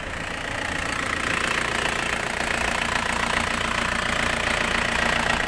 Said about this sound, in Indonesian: Ini suara mesin dari mobil ini.